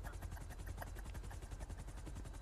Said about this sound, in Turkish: Koca helikopter kovalıyor arkandan.